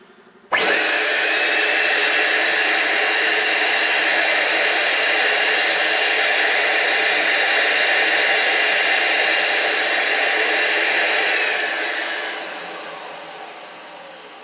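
The motors of a Diamond Jet 1200 dust containment system start abruptly and hold a loud, steady high-pitched whine for about eleven seconds before winding down and fading.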